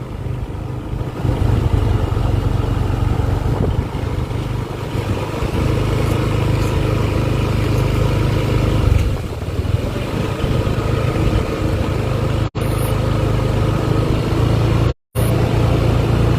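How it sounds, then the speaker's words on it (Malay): A motorcycle engine runs loudly and steadily nearby, a constant low rumble that cuts out twice for a moment. "Biar jalan motor dia."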